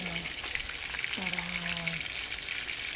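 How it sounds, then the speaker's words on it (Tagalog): Steady crackling sizzle of salmon frying in a pan, close and continuous, with a brief low hum in the background. "Tapos natin prito ating salmon."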